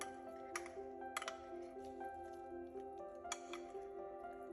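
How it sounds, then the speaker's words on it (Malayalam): Half a kilo of chicken mixed by hand into marinade in a bowl, soft wet squishes and occasional light clinks against the bowl over a faint steady hum. "ഇതൊന്ന് നന്നായിട്ട് മിക്സ് ആക്കാം."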